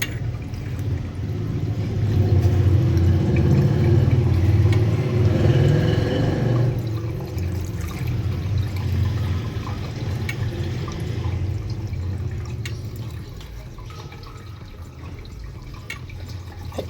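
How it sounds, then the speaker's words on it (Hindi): Plain water pouring and splashing through hair during a keratin treatment after hair dye, a steady broad rush that thins out partway through, with no talk. "हम नेक्स्ट डे इनको वॉश करने लगे हैं, सिंपल पानी से इसको वॉश करेंगे।"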